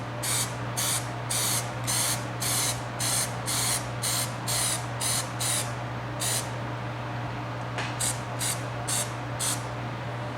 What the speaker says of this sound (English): So just kind of lightly spray it.